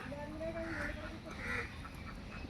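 Ducks quack softly amid a busy outdoor backdrop, the calls blending into steady ambient noise with a few clearer quacks standing out.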